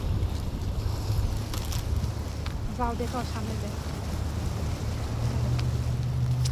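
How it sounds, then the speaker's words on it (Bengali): Rough sea waves wash along a seashore in a continuous broad roar mixed with wind buffeting the microphone, with brief voices talking nearby. "বন্ধুরা দেখেন আজকে সাগর পাড়ে অনেক ঢেউ।"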